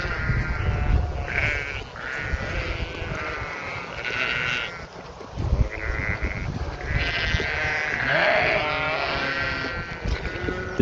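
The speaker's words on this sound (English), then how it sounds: "Sheep. Wake up, sheep." Sheep bleating in Ireland, a flock calling in overlapping, wavering bleats that rise and fall continuously at close range, with several louder cries near the end.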